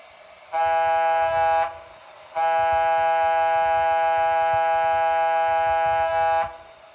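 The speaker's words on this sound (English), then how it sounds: "F22 is the air horn. So let me play that real quick." A loud, multi-tone air horn from an HO scale Southern Pacific GS4 model locomotive blasts twice: a short toot about a second long, a brief pause, then a long sustained blast of roughly four seconds.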